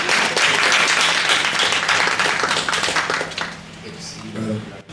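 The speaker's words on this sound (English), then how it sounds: "please give a round of applause for Mr." Audience applause for a speaker being introduced at an event, a dense, steady burst of clapping that thins out after about three seconds, with voices and chatter coming in toward the end.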